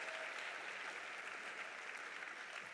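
Steady round of audience applause for a testimonial at a closing summit session, dense even clapping heard faintly and at a distance, with no voices.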